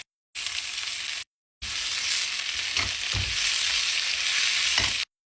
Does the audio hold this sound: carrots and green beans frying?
yes